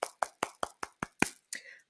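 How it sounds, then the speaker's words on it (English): About eight sharp claps, evenly and quickly spaced, sound close and distinct rather than as a dense crowd roar, at the end of a live talk on anxiety. "you all deserve another round of applause"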